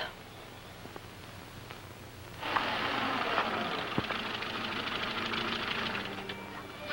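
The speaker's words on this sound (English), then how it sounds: "It's the night air. It blocks the carburetor." An old car engine with a blocked carburetor runs roughly at night, a faint low idle that swells into a steadier, louder mechanical noise partway through, with a few sharp knocks.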